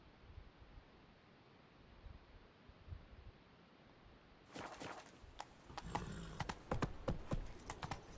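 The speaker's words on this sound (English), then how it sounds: "Whoa there, Roach" Hooves of a horse in The Witcher III clip-clop in a steady trotting rhythm, quiet at first and then louder and closer in the second half, with faint ambient wind and no talk.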